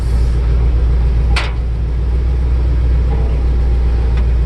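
A 1965 Ford F250 Custom Cab Camper Special pickup truck drives, with a steady loud low engine rumble and road noise throughout and a few brief clunks.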